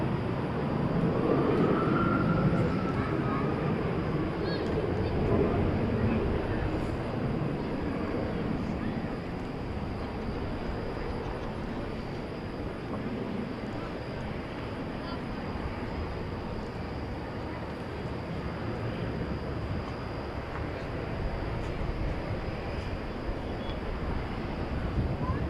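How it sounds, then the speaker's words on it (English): A jet airliner, American Flight 2235 bound for Denver, departs DFW Airport at night, its steady broadband roar holding loud and continuous from start to finish. "This aircraft, Flight 2235,"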